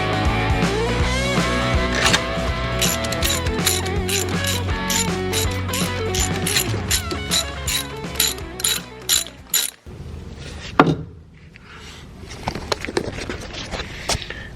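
A hand ratchet drives in CV axle bolts on a 1985 VW Scirocco Mk2, giving rapid, close clicking bursts for about ten seconds, then a louder knock and a few sparse clicks.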